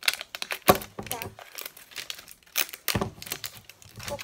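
Paper wrapping crinkles and tears in bursts as a LOL Confetti Pop toy ball is unwrapped layer by layer, close and fairly loud, with a person talking over parts of it.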